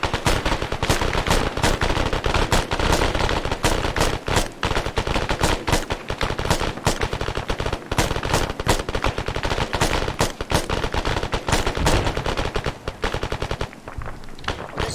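Sustained machine gun suppressing fire in the ArmA military video game, a dense, loud rapid stream of bursts running almost unbroken for the whole stretch, thinning slightly near the end.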